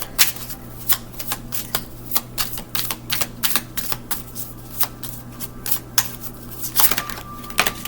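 Playing cards shuffled again and again in a quiet room, a steady run of crisp riffling bursts with short pauses between them, close and clear over a faint hum.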